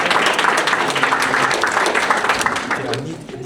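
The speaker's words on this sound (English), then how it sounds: "So give yourselves a louder applause." An audience at a book launch in Amsterdam claps steadily throughout, a dense continuous applause with voices talking over it.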